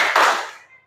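A single short burst of hand clapping from a classroom clap game (tepuk konsentrasi) in an Indonesian religious-education lesson, sharp at the onset and then quickly fading.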